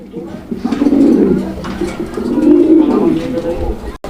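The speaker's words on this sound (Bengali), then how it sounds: "ব্ল্যাক কালারের একটা ডেনিশ কবুতর" A black Danish pigeon cooing close by, two long throaty rolling phrases one after the other, low and resonant.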